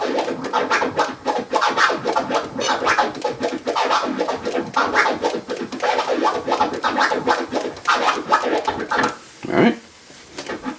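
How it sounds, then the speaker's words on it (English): Rapid turntable scratching cuts the record into four-click bursts, dense chopped strokes repeating steadily and close, then breaking off near the end with a brief sweep and quieter tail. "Alright, and 4 clicks sounds like this."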